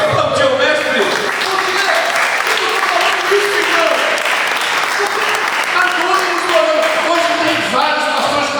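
Congregation at a church gathering applauding steadily, a dense, continuous clapping that fills the room, with voices mixed in under it.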